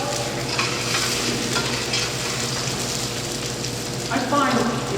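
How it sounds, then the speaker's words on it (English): Garlic sautéing in a pan for a grilled chicken chickpea casserole, a steady close sizzle with occasional stirring scrapes and a brief louder burst of frying near the end. "You want to saute your garlic?"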